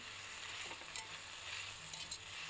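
Chicken pieces sizzling as they fry in a pan for a village-style chicken rice dish: a steady, moderately loud hiss with faint stirring scrapes, no talking.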